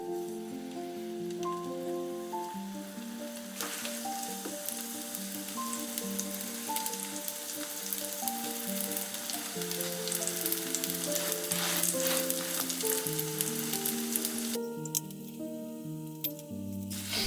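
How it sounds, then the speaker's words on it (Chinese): Flatbread dough fries on an oiled electric griddle over medium heat, giving a continuous crackling sizzle that plays under background music throughout. "放入饼坯，"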